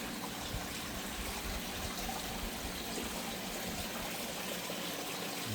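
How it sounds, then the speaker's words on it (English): Water being poured for a dog makes a continuous steady trickle and splash, even in level for several seconds without pauses, heard alone at moderate volume. "Get Digger some water here."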